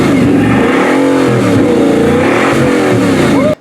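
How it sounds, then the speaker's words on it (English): A Bugatti Chiron's 16-cylinder engine revs hard in a deep, bassy roar, loud and close, with the pitch sweeping up and down through several throttle blips before cutting off abruptly at the end. "It was a low, kind of like bassy, demonic kind of a sound."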